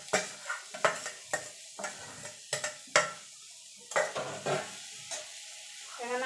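Deboned fish stirred into a sizzling, frying masala for homemade fish chops, with repeated scraping stir strokes and metal-on-pan clinks in an uneven rhythm over a steady sizzle, close and fairly loud.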